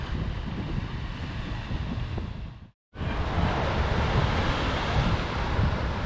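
Ocean surf and strong wind at the Venice fishing pier, a loud, continuous roaring wash with heavy wind buffeting on the microphone, briefly cut by a short gap of near silence midway.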